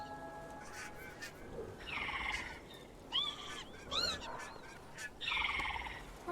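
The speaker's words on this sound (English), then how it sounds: "I totally knew that little bird was ready to hatch." In the video game Broken Age, a bird honks in several loud, goose-like bursts spread across a quiet background.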